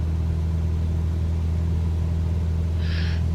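Steady droning rumble of an aircraft engine in a flight simulator, holding a constant low hum with no break, alone and fairly quiet.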